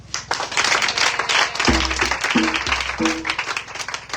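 A church congregation claps in acclaim of the Lord, a dense, steady wash of many hands clapping together with a few deep rhythmic thumps sounding underneath.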